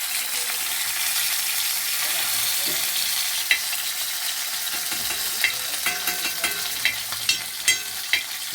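Fish fries in hot oil with a steady, bright sizzle throughout. Toward the end, sharp clinks and spatters from handling the pan rise above it.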